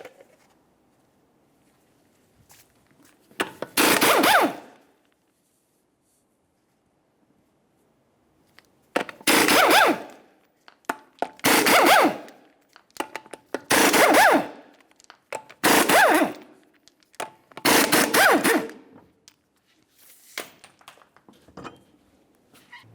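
Six 19mm lug nuts being run off a car's front wheel with a power tool during control arm bushing work, heard as several loud buzzing bursts of a few seconds each, separated by pauses and ending with quieter handling noises.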